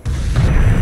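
A bazooka team's explosion in the video game Brothers in Arms: Hell's Highway, a single heavy boom with a deep rumbling body that holds loud for under a second.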